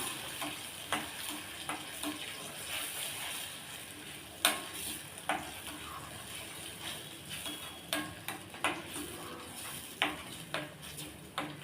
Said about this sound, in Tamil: ஒரு ரெண்டு நிமிஷமாக சட்னி நல்லா கொதிக்குது